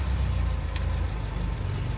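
A Renault Fuego Turbo idling steadily while it warms up on a cold day, a low continuous rumble heard close by with one faint click partway through.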